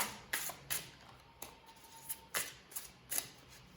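Tarot cards being shuffled in several quick, crisp riffles with short pauses between, close and fairly quiet, no voices.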